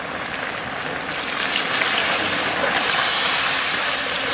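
Water is poured into a pot while curry cooks, a continuous rushing splash that swells a little louder partway through and stays close and steady.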